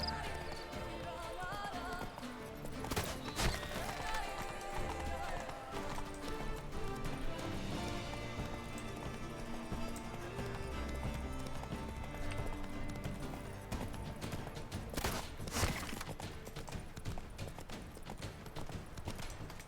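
Horse hooves galloping in The Witcher 3, a steady rapid clip-clop rhythm running loud and close for the whole stretch, layered over dense game music and ambient effects.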